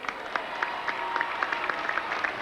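Crowd applause at the 1998 Yankees World Series victory parade, a moderate spread of clapping heard from some distance with scattered sharper claps rising out of the outdoor background.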